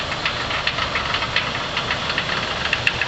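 A 2003 Infiniti FX45 V8 idling with a slight engine knock, a faint irregular ticking over a steady low hum, heard up close without talk.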